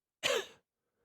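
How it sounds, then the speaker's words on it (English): A single short, throaty cough bursts out alone, up close, then silence. "I coughed."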